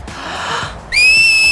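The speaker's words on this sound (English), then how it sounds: "there is a scene where Tidus tries to teach Yuna how to whistle" Whistle from the video game Final Fantasy X, a loud, piercing two-finger style whistle that rises in pitch and then holds steady, following a stretch of soft airy background sound.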